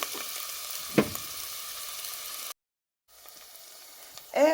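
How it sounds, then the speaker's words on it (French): Steady sizzling of sliced onion frying in oil in a small saucepan, with a couple of brief clinks, a short gap of silence, then the sizzle resumes louder. "Dans une petite casserole, j'ai mis de l'huile. Je viens maintenant mettre de l'oignon"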